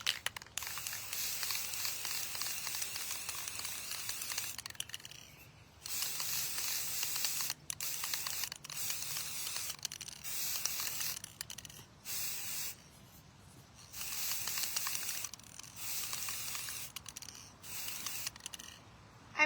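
Mirror effect spray hissing onto a mirror in a series of long, close bursts separated by short pauses, with no talking.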